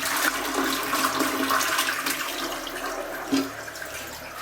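A toilet flushes during a plumbing repair in a home, a loud rushing swirl of water draining and refilling close by, continuous for the whole stretch with a brief gurgle near the end.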